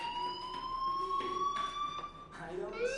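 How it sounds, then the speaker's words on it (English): Fire alarm from the video game Life is Strange: a loud electronic siren with a steady rising tone, sounding alone without speech. "do you hear that fire alarm? That means you should be outside."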